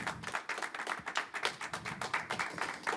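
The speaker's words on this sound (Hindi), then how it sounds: "मैं चाहता हूं तालियां जो हैं वो जोरदार होनी चाहिए" Audience applause welcoming a guest at a poetry album release event, a dense, steady wash of many hands clapping close and continuous throughout, with no talk over it.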